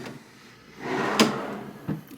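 Drawer of a large end table in a Disney Saratoga Springs Resort villa bedroom sliding open or shut, a short wooden rumble ending in a soft knock, close by with no talking.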